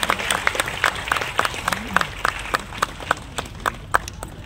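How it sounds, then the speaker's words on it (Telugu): An audience at an International Day for Biodiversity gathering claps in a steady rhythm. The clapping is moderately loud and fills the room, with no speech over it. "గట్టిగా చప్పట్లు కొట్టాల్సిందిగా కోరుతున్నాను"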